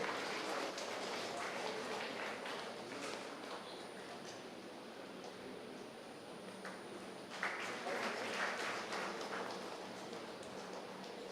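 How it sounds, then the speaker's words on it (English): An audience at an international academic conference applauds in a continuous, even wash of clapping that carries steadily throughout, distant and moderately quiet. "let us all give a big round of applause in honoring the guest."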